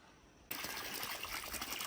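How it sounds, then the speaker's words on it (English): A solar-powered sump pump pushes water from one tank into another in Hawaii; a loud gush suddenly starts and pours steadily, with no talk. "Got a sump pump in one tank, pushing it into this one"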